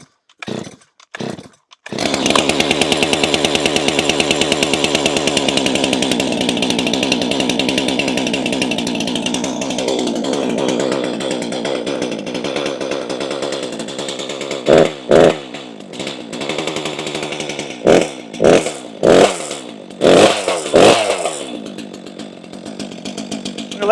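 A Stihl chainsaw on steep wooded terrain pulled a few times and then catching, its two-stroke engine settling into a loud, steady close idle as it warms up, followed by several sharp revving bursts near the end.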